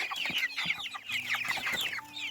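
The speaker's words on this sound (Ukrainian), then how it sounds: "Подивіться, вони великі курчата." Several large chicks clucking and cheeping close by in a quick, busy run of overlapping calls, fairly loud, with no talking.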